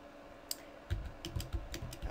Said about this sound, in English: hold down the shift key and press the plus sign, which is next to the backspace